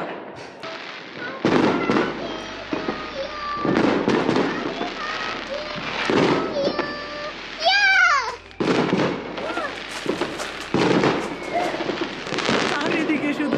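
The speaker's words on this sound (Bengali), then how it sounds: "চারিদিকে শুধু আতশবাজি আর আতশবাজি।" New Year's Eve fireworks in the UK, a foggy night, bursting in repeated loud pops and crackles across the whole stretch, with a whistling rocket rising midway and voices in the background.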